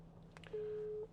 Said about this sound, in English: So it's ringing me, it's engaged,